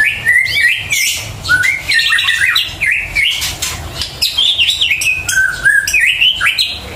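A green leafbird sings close and loud in a continuous, varied run of bright whistled phrases, chirps and quick warbling trills with no pauses.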